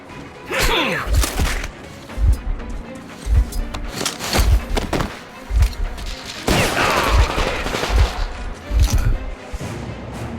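Repeated gunfire bursts from a firefight in the shooter game Metro Exodus on a cargo barge, loud close shots landing in an irregular rhythm with short clattering volleys and metallic impacts, while occasional shouted voices come through between them.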